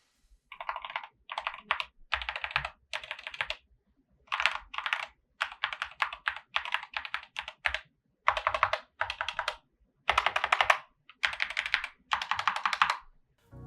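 Steady typing on a SteelSeries Apex Pro TKL mechanical keyboard: quick clusters of crisp, fairly quiet key clicks in bursts separated by brief pauses, close and alone.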